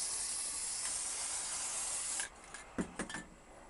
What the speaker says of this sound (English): So, the obvious solution is just to spray them green.